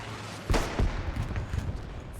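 An artillery strike in a World War II style game, Hill 400: two sharp distant blasts close together, followed by a rumbling, crackling tail of smaller impacts at moderate volume.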